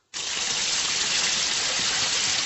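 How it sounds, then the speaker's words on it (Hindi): Water gushes steadily from a tap left running somewhere in a house, starting abruptly and continuing as an even, loud rushing stream. "मुझे लगता है तुम्हारे घर में कहीं पानी बह रहा है।"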